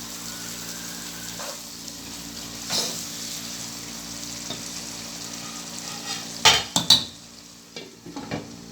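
Chicken frying in a pan with biryani masala, a steady sizzle with occasional scraping stirs and clinks of a utensil, louder metallic knocks near the end.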